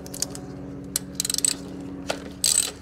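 A ratchet with a 10 mm socket turns a bolt on a car engine's ignition cover, giving short bursts of quick mechanical clicks with pauses between strokes, close and fairly loud, with no talking.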